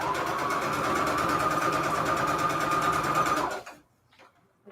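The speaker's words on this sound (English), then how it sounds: "sewing the right sides of the fabric together here" A sewing machine whirs in one steady, loud, continuous run for about three and a half seconds while stitching fabric right sides together, then stops abruptly, followed by faint handling noise.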